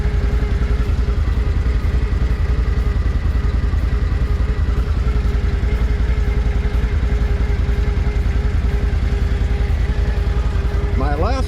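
A 2022 Can-Am 850 Max XT runs at a steady idle close by, a continuous rumbling engine drone with light clatter throughout, and a voice briefly comes in near the end.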